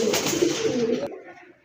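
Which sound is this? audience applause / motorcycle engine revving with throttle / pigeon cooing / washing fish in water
pigeon cooing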